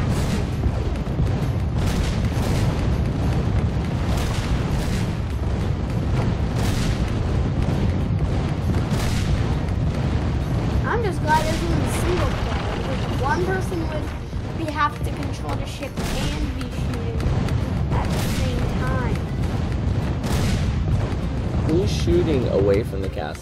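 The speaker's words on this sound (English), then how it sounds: "I am trying to control this cannon." Cannon fire from a pirate ship in the video game Skylanders: Spyro's Adventure, repeated booming blasts in a steady rhythm with a constant rumbling game soundscape underneath, while a person talks throughout.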